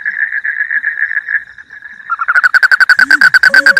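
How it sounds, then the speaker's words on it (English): A frog croaks in a rapid run of loud, close, rhythmic pulses after a sustained trilling call, heard alone with no voices. "Frog."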